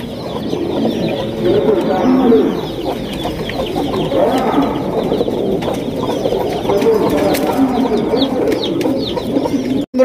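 Pigeons coo continuously in a busy chorus at a pigeon farm, with clucking fowl and other birds mixed in, loud and close throughout.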